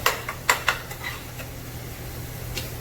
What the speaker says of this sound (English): So we're going to continue to chop the sausage up a little bit as we're stirring it